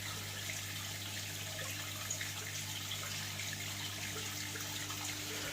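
Water pouring steadily into the sump of a saltwater aquarium during a water change, a continuous, moderately quiet rushing and splashing with a low steady hum underneath and no talking.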